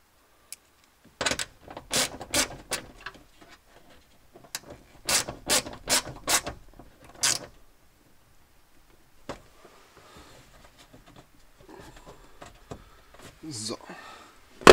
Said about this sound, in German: Und ziehen das alles mal wieder fest hier.